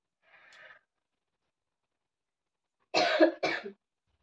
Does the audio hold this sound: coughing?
yes